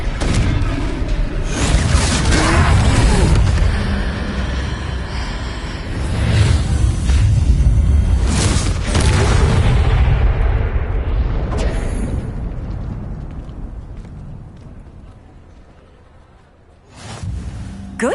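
Confringo fire spell blasts in Hogwarts Legacy during a troll fight, heavy booming explosions and roaring bursts in several loud waves that fade to quieter rumble before a final sharp impact.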